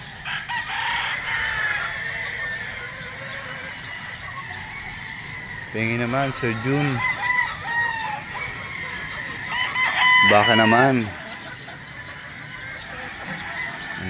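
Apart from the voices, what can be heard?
flock of chickens clucking and crowing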